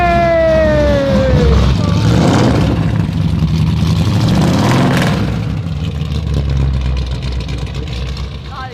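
A rare collector car in a private collection starts up and revs, with a rising whine giving way to a loud rough engine roar that holds and slowly settles, while voices talk and exclaim over it.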